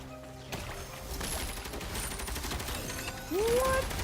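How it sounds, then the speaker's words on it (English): Dual-wielded machine guns firing in Genshin Impact, a dense continuous rattle of rapid shots that starts abruptly and runs for several seconds, ending with a rising tonal game effect. "You are dual-wielding machine guns?"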